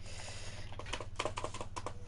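A computer keyboard clatters with quick, irregular keystrokes, close up and fairly quiet over a low steady hum, the taps bunching into faster runs after the first second.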